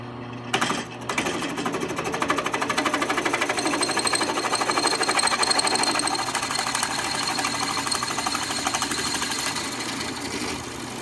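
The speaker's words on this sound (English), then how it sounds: "I got this clamped to the drill press to see if it works." A drill press whirs steadily as its bit grinds into a metal motorcycle lever, a continuous loud mechanical drone with a rattling, buzzing texture throughout.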